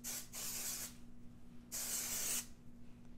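Two short hissing bursts of Oribe Beach Waves and Shine hair spray, close by, separated by a pause, with a faint steady hum underneath.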